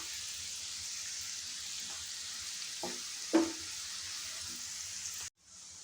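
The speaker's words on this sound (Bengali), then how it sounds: "খুব হালকা লো ফ্লেমে আপনারা এটাকে পেঁয়াজটাকে ভাজবেন।" Onions frying gently on a low flame for a Mughlai paneer white gravy: a steady, soft sizzle with a couple of brief stirring scrapes near the middle, then it cuts off abruptly near the end.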